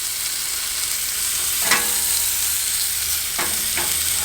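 Bacon-wrapped hot dogs sizzle steadily in a pan at a camp cookout, with a few soft scrapes and taps as tongs turn them.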